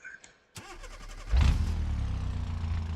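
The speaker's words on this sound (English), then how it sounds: "at least the engine started this time" In the driving simulator BeamNG.drive, a car engine cranks briefly and catches, then settles into a steady, rumbling idle, loud and up close.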